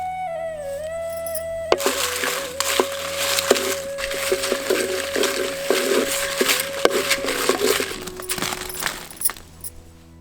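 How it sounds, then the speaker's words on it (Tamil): Dry red chillies roasting in a pan for a sundakkai tamarind curry, giving a steady close crackle and dry rustle over a continuous background tone for several seconds before it fades. "வரமிளகாயை வறுக்க ஆரம்பிச்சிடலாம்"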